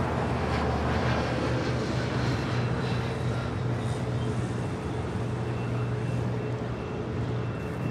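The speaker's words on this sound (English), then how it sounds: "It was JetBlue Airways Flight 524 in the New York Jets livery heading to JFK in that A320." Distant jet engine roar of a JetBlue Airbus A320 in New York Jets livery departing LAX for JFK, a steady broadband rumble holding level throughout with no talk.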